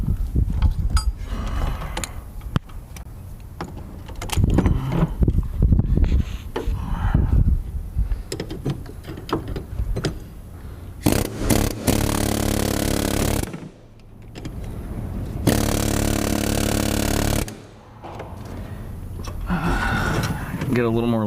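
A wrench with an extension works a tight bolt loose, loud ratcheting and grinding metal strains punctuated by a long harsh scraping squeal, close up and continuous, with no talking over it.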